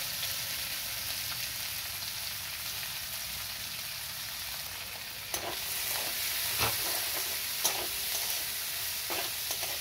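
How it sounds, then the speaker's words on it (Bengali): Three medium sliced onions frying in oil, a soft, even, rain-like sizzle that stays faint and steady, joined later by a few knocks and scrapes from stirring. "পেঁয়াজগুলো ভেজে নেব।"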